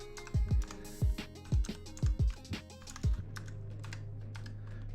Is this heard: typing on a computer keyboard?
yes